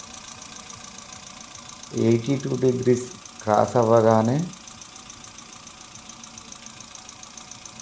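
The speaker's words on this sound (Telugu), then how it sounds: "వాటర్ ఫిల్ చేసినాక ఇంజన్ స్టార్ట్ చేసి 2 times ఫ్యాన్ ఆన్ అయ్యే వరకు ఇంజన్ ఐడల్" A Hyundai Santro Xing engine idles during a thermostat valve repair, a faint steady hum with a light rattle, while someone talks over it for part of the time.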